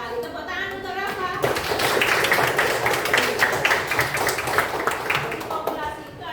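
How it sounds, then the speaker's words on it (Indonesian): A classroom of students bursts into lively applause for a classmate, many hands clapping densely and fairly close after a teacher's brief speech, continuing for several seconds before fading. "Tepuk tangan untuk Rafa."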